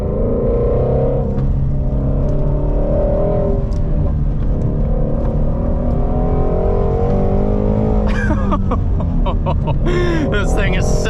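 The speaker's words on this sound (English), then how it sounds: "let's put it into track mode. That will open up the exhaust, tighten the suspension, increase the throttle response" Ford Shelby GT350R with a six-speed manual in track mode, exhaust opened, accelerating hard on the road: a loud continuous engine drone that climbs in pitch, with a person talking over it near the end.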